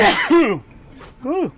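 A single close sneeze bursts out and drops into a short breathy exhale, then a brief voiced exclamation follows a moment later.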